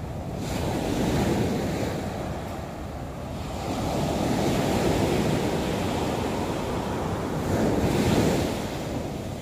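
Sea waves rolling onto the beach at Nha Trang, a broad roaring surf that swells and recedes in slow surges, with wind buffeting the microphone and no voices.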